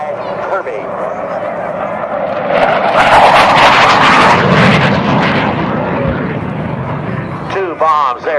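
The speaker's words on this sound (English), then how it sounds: "Arguably the greatest warplane of its era." An F-4 warplane flies past at an air show during a Vietnam re-enactment, its jet roar swelling to a loud, sustained peak midway, then easing off while a commentator talks over it throughout.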